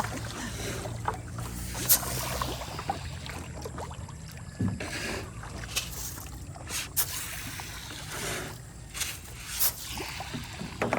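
A small boat moving through water, with steady lapping and splashing against the hull and occasional knocks, fairly close, with no talking.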